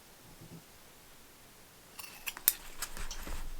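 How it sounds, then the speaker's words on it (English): Scissors snip at fabric beside a zipper on a small sewn phone wristlet purse. A few quiet, crisp cuts come in a short cluster after a near-silent start. "You're going to trim up the side to be even with the zipper."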